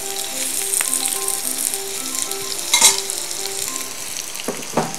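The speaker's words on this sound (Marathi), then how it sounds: "कांदा टाकते उभा चिरलेला" Sliced onion strips hit hot oil in a pan, a steady broadband sizzle of frying that runs throughout, with a few sharper crackles and spatters, loud and close, with faint background tones but no talk.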